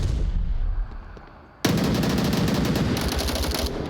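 Rapid automatic gunfire rattles out in a round of the VR shooter Onward, loud dense bursts starting abruptly after a quieter lull, with no voices over them.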